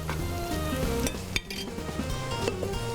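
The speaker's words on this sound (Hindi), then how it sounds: "थोड़ा सा करूँगी इसको फ्राई।" Whole spices such as cloves and cardamom fry in a pot as the base of a mutton pulao. A steady sizzle carries on throughout, with metal spoon clinks and a soft knock on the pot.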